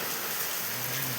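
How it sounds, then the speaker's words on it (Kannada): Steady, dense rain pours onto a tent during a cycling trip, a constant close hiss with no talk over it. "ತುಂಬಾ ಬರ್ತಾ ಇದೆ, ಆದಷ್ಟು ಸ್ವಲ್ಪ ಮಳೆ ಗುಂಜಿರೋ ಥರನೇ ಇದೆ"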